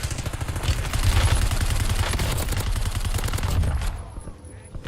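Rapid bursts of automatic gunfire in a video game, dense and continuous for about four seconds before cutting off abruptly.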